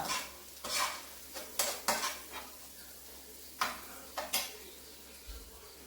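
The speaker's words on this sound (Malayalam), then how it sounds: "നമുക്കിതെല്ലാം കൂടെ അങ്ങോട്ട് ഒന്ന് ഇളക്കി കൊടുക്കാം" Spice powder stirred and fried in a pan, a spoon scraping and clinking against the metal in scattered strokes over a soft sizzle, close and fairly quiet with no talk.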